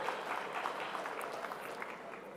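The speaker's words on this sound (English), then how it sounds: "A big round of applause to yourselves." Audience applause fills a packed conference hall, a dense, even wash of many hands clapping continuously at moderate distance with no voices on top.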